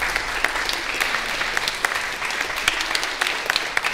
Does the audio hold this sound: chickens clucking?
no